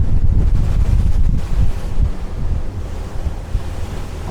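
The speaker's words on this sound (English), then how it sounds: "Couple of waves here." Steep waves slap and wash against the hull of a Prestige M48 motorboat at speed, a loud, continuous roar of surf, spray and wind buffeting the microphone, with no talk.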